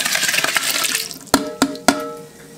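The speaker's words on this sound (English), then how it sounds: "But in goes my gallons of tomatoes." Commercially canned tomatoes, gallons of them, poured into a pot for salsa, giving a rushing liquid gush that fades into three sharp knocks or clunks toward the end, close and fairly loud with no talk.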